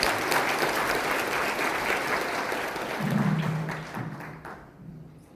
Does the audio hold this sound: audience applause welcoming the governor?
yes